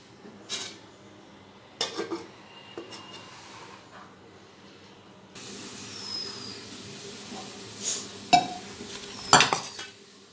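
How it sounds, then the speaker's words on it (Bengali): Cooking a Bengali stem-vegetable curry with aubergine: a metal spoon scrapes and clinks around a pot during stirring, with scattered sharp clatters toward the end as a lid goes on, over a steady low kitchen hiss. "সব মশলা দিয়ে নাড়িয়ে চাড়িয়ে একটু জল দিয়ে দিলাম এবার ঢেকে দেবো"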